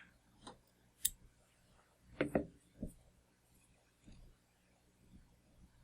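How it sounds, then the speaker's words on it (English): Scissors snipping excess flash while tying a Quasimodo Pheasant Tail Nymph fly, a few soft close clicks and snips with quiet gaps between them, no talk. "Now we can go ahead and cut off this excess flash."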